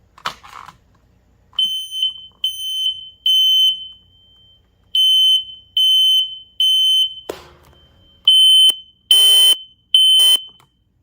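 A Kidde Fire X smoke detector sounds during a test, giving loud, piercing electronic beeps in repeated bursts of three with short pauses between groups, alone in a quiet room.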